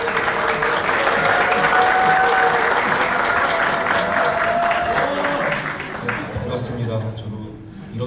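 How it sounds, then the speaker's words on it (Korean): Audience applause at a panel discussion event, a full round of clapping that holds steady for several seconds, then thins and fades as a voice begins speaking near the end. "박수로."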